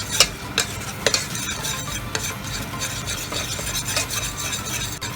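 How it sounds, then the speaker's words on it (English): Butter and flour roux cooking in a pan, with a spoon scraping and stirring in a steady rasping rhythm over a soft sizzle and sharp clicks now and then, close up and without voices. "So, butter and flour, and I'm going to cook this"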